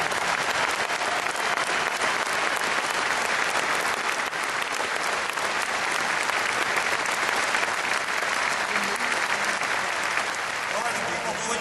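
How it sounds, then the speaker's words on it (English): Sustained rally crowd applause at a drilling rally in the CajunDome, steady and dense for the whole stretch, broad clapping from a large audience with no talk over it. "Lori a round of applause"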